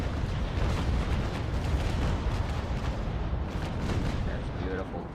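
Dense, continuous rumble of naval cannon fire in a sailing-ship battle game aboard HMS Victory, heavy booms blending into a loud, unbroken roar with a voice briefly heard over it.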